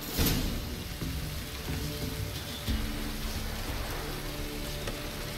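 Steady rain falls in The Witcher 3 video game, a constant soft patter heard alone with no talk.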